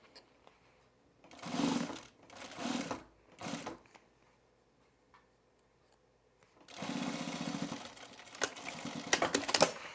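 Sewing machine stitching binding onto the bottom of a bag, running in three short bursts early on, then a longer steady run after a pause, close and fairly loud.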